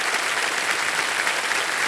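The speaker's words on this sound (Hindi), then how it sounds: "इसके लिए जोरदार तालियां।" Studio audience applause on the Wheel of Fortune game show, loud, dense and steady clapping from a large crowd that fills the whole moment without letting up.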